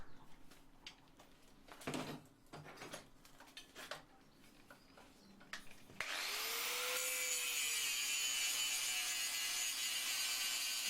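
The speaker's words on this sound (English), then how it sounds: "Just take the worst off with the ordinary grinder." An ordinary grinder grinding the edge of a spike axe: scraping and handling noises first, then the grinder starts and settles into a loud, steady high whine as it cuts the metal edge.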